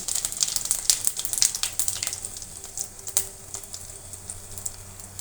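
Panch phoron spices crackling and popping in hot oil in a pan, a steady close sizzle with many sharp irregular pops.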